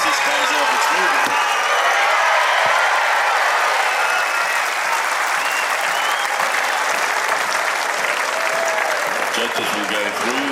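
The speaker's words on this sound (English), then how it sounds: "At the end of it, give them all a cheer once this comes off" Crowd applause and cheering at a 325mm world championship tree felling contest final, a loud, continuous roar of clapping and shouts from a large outdoor audience, with voices woven through it for over ten seconds.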